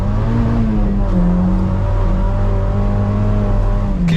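A Mazda MX-5 2.0L Sport burbling on a slippery road, heard from inside as a loud, steady low engine drone with a rising and falling throb and no talk.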